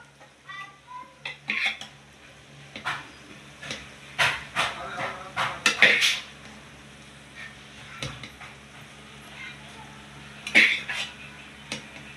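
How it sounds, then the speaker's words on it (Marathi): Basmati rice being added to a pot of chicken dum biryani, with scattered clinks and scrapes of a utensil against metal and soft rustling, some louder clatters near and a faint hiss underneath. "आता आपण भात टाकूया बिर्याणीमध्ये"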